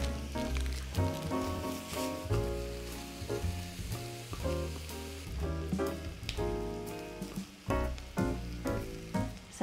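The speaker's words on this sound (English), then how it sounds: "Quickly brown off my mince." Minced meat sizzles and crackles steadily as it browns in a pan, loud and close, with a clear frying texture throughout and no talking.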